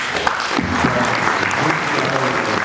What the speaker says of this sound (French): Est-ce que vous pouvez acclamer?